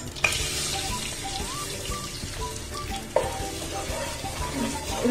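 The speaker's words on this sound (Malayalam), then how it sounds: "അടുത്തത് പാലൊഴിച്ചു കൊടുക്കാന്" Milk poured into a pan of ghee while making apple peda, a steady liquid splash and sizzle with stirring scrapes, moderately loud and close, with a sharper clatter near the start and midway; no talking.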